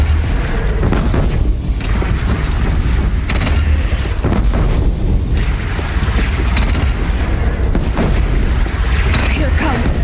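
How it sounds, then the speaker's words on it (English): Deathbringer machine fire in Horizon Zero Dawn: dense, continuous booms and crashing explosions over a heavy low rumble, loud and close throughout, with speech partly under the barrage. "Deathbringer fire incoming"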